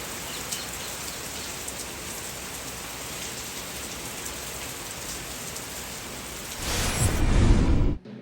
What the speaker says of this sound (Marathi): खेडच्या पश्चिम भागात मध्यम ते हलक्या पावसाच्या सरी कोसळत आहेत.